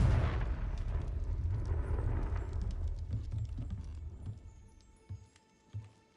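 A Confringo fire spell in Hogwarts Legacy goes off in a loud, rumbling explosive blast that fades away, followed by a few smaller thumps near the end.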